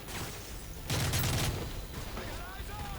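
Video game gunfire from Call of Duty Modern Warfare 3 erupts as a brief burst of rapid shots in the middle, set against a busy background of game noise.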